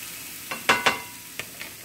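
Mushrooms hit a hot pan for a stir fry with sharp sizzling bursts, several quick crackling pops over a low steady frying hiss, close and clear.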